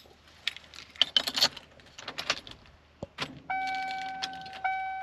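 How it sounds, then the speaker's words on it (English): Keys jangle and rattle close by in a 1997 Ford F250 4x4 extended-cab pickup, followed by a steady electronic chime that sounds twice with a short gap as the truck is switched on. "Let's power on the truck for one."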